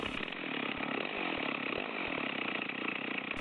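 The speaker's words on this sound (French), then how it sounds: "On continue tranquillement de tronçonner" A chainsaw cutting a log runs at a steady high whine throughout, loud and close, biting into wood without letting up.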